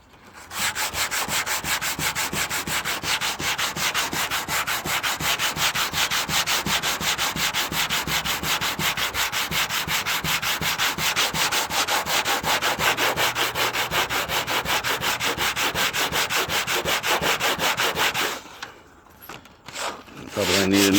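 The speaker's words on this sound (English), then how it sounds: "Probably gonna need a new piece of sandpaper because I think this one's worn out" Hand sanding with sandpaper on the body of a 1957 Chevrolet Bel Air, a loud close, continuous rhythmic rasping scrub that runs for many seconds, then stops abruptly near the end.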